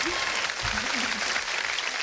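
Steady applause fills a studio as a dense, continuous wash of many clapping hands, with a low voice briefly audible beneath it.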